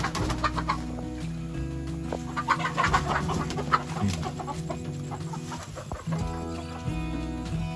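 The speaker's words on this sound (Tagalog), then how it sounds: "Tapos ito yung mga manok nila oh." Several chickens cluck steadily nearby, with a rooster-like call and overlapping hen chatter throughout, over a faint background hum.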